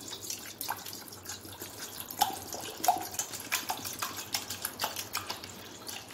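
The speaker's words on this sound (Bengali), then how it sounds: "আগে আমি এখানে একটুখানি বাটিতে জল নিয়ে নিই।" Water is poured from a tap into a small bowl, a soft, faint trickle with light splashes and drips running for several seconds, no voice over it.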